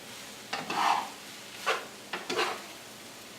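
Shrimp and broccoli tossed in a stir-fry pan, heard as a few separate scraping, rustling bursts with brief pauses between them, fairly close and moderately quiet, with a sharper knock right at the end.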